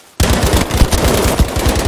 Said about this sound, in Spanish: me acaban de soltar un disparo